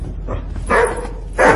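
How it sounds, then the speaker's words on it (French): A dog barks in a few short, moderately close bursts, with quiet pauses between them and no talk over the sound. "Pourquoi tu aboies?"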